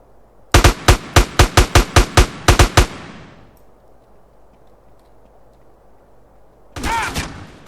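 Rapid gunfire from the GTA San Andreas zombie mod video game: a quick string of about ten loud, evenly spaced shots, then a quiet pause before a shorter burst of shooting near the end.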